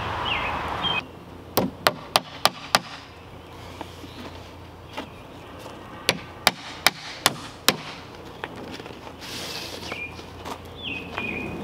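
Hammer blows drive 1.25-inch joist hanger nails into a homemade soldier fly larvae compost bin. Two quick runs of about five sharp, ringing strikes stand out, with scattered lighter taps, over a faint outdoor background of insects and birds.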